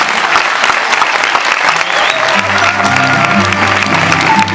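Theatre audience applauding a 2006 Aragonese jota show with a rondalla string band, singers and dancers: loud, dense, sustained clapping throughout, with a faint low musical tone creeping in partway.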